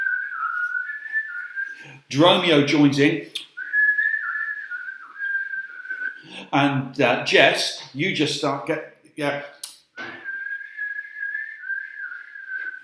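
People whistle a steady, sustained tone in three long stretches, with spoken lines from a cast in between.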